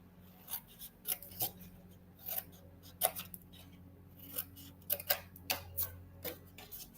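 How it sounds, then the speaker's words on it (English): Scissors snip up score lines on paper to cut tabs for a Halloween craft, giving a series of quiet, close, crisp cuts in an irregular rhythm. "I want to cut for my tabs, so I'm just going to cut up these score lines"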